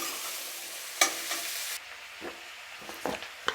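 Tomatoes and onions frying over a low flame for paneer butter masala, a soft steady sizzle broken by a few scraping stirs of a spoon against the pan, close and fairly quiet, with no voices.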